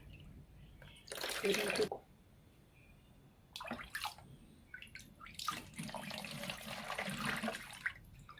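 Water is poured from a container onto basil plants being treated for thrips, a couple of splashing gushes between pauses, with someone speaking nearby.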